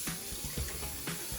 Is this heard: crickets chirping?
no